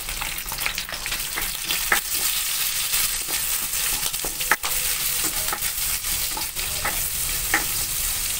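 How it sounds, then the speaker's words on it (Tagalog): Onion being sautéed with golden-brown fried pork in a pan, a loud, steady sizzle with continuous stirring and scraping, occasional sharp clinks of the utensil against the pan, no talk. "dahil golden brown na yung pork natin, igisa ko na yung sibuyas"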